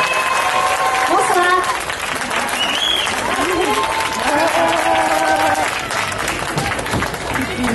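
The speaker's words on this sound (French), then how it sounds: "je vous demande un tonnerre d'applaudissements pour" Applause and crowd noise from an outdoor Kid's TV Tour audience at Gujan-Mestras greeting singer Inès, steady and loud throughout, with cheering voices and talk layered over the clapping.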